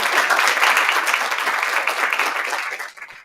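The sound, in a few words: audience applause for entrepreneurs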